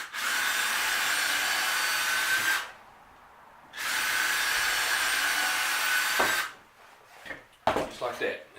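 A power drill bores pilot holes into wood while building a hive stand, running in two long steady bursts with a brief pause between, followed by a few close clunks and handling knocks.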